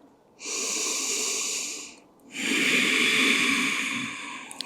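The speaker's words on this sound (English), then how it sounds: "Deep inhales and exhales here." Two long, loud breaths during a yogalates core bodyweight workout, each a sustained airy rush through sealed lips lasting over a second, separated by a short pause, close and alone without talk.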